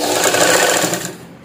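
A sewing machine runs in one fast, continuous burst while stitching the shoulder seam of a princess-cut blouse, close and steady before easing off.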